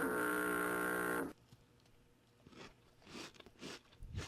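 A loud sustained tone cuts off, then a crunchy chocolate candy bar is bitten and chewed close to the mic in several crisp, irregular crunches.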